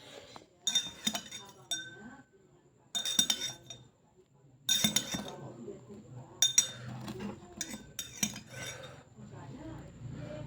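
A metal spoon clinks and scrapes against a glass while turmeric extract is stirred into a detergent and vinegar solution, in short bursts of sharp ringing taps separated by pauses, close and fairly quiet.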